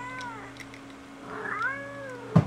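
A black cat meows with a few drawn-out, wavering cries, fairly faint over a steady low hum, with a brief louder thump near the end.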